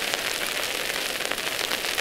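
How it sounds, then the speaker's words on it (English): Freezing rain patters steadily on a tent during a spring snowstorm, a dense, even hiss of tiny impacts close overhead with no pause, heard alone. "It's freezing rain. Yeah, it's still coming down."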